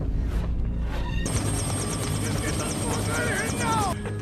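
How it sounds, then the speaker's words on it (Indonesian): A helicopter's rotor drones and thumps steadily, mixed with busy overlapping sounds in the background. "Carlito berusaha kabur menggunakan helikopter"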